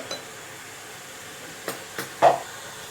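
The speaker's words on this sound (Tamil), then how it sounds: "நம்ம இன்னொரு அடுப்பில் ஒரு குக்கரை வச்சு அடுப்பை பற்ற வச்சுக்கலாம்." A pressure cooker being placed on a stove burner, a few sparse metallic knocks and clinks with the last one loudest, close by over a quiet hiss of background noise.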